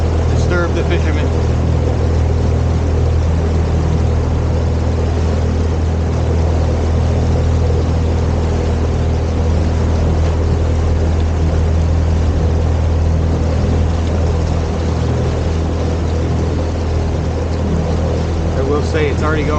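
A Donzi motorboat's upgraded engine runs fast at about 2400 RPM on open water past fishermen, a loud, steady drone with broad wash and wind noise throughout, a voice faintly present.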